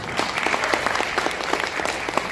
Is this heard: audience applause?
yes